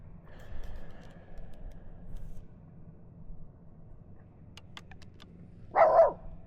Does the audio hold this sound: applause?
no